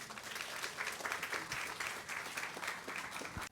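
Audience applause welcomes a pastor to the stage at a groundbreaking ceremony for a bio-pharmaceutical cluster, a steady dense clapping from a sizable crowd lasting throughout.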